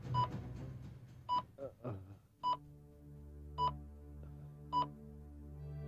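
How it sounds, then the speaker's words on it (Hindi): A telephone keypad sounds out a call to a hospital, with a series of short, evenly spaced dialing beeps following a brief spoken exchange at the start. "फौरन हॉस्पिटल फोन लगाओ"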